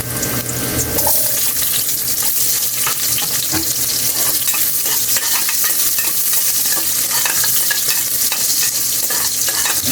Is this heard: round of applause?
no